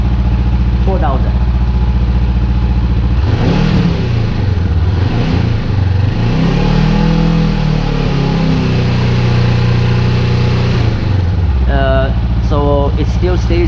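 Sport-bike engine of a 2019 Honda CBR500R fitted with a Scorpion exhaust: a steady idle rises into a sustained rev around 4,000 rpm, holds for several seconds, then drops back to idle, loud and close, with brief talk near the end.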